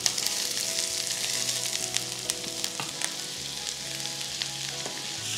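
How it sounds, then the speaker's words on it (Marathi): Sliced onion sizzles and crackles in hot oil on a griddle, a steady close frying hiss with occasional stirring scrapes and small pops, no voices over it. "आता यामध्ये हा उभा चिरलेला कांदा घालूयात सगळा"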